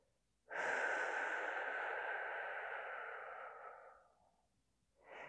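Slow, steady breath pushed out through an open mouth during a restorative yoga breathing exercise, one long airy exhale fading over about four seconds, close and soft, followed by the start of a brief inhale.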